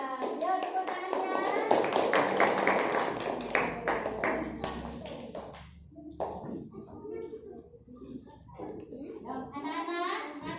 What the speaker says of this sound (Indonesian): Ya, terima kasih untuk kelompok 4. Yuk, tepuk tangannya.